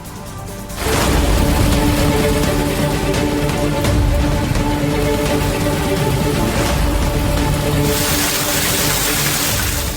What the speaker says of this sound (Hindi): अलवर शहर में बुधवार शाम मूसलाधार बारिश ने पूरे शहर की व्यवस्था को मुश्किल में डाल दिया।